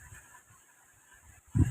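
A single short bird call, honk-like, sounds at the very end after a quiet stretch with faint low murmuring.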